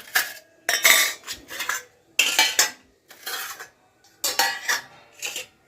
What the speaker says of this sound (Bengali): এই যে দেখো বাটাগুলো সাজিয়ে নিচ্ছি